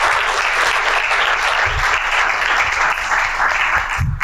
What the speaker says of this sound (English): If I can have a big round of applause.